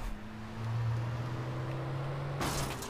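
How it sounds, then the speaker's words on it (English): A minivan engine in the video game Alan Wake revs with a steady droning hum that rises in pitch, then a sudden burst of noise breaks in near the end. "it's time to rev this minivan engine"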